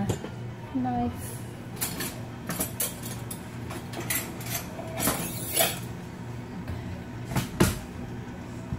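Metal cutlery clatters and jingles in a drawer while someone rummages for a knife in a home kitchen during tomato canning, with a few sharp clinks and a low hum beneath.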